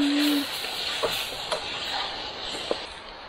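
Onions sizzle in a pan at a spring snow camp, a steady broadband hiss with a few faint clicks and pops, moderately close and continuous.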